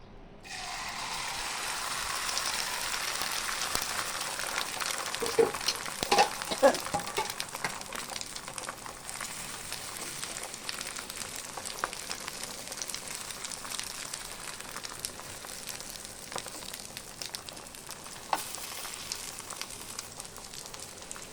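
Egg frying in a pan for a Bangladeshi street-food breakfast, a steady crackling sizzle with scattered clicks and clatter, moderately loud, with faint background voices.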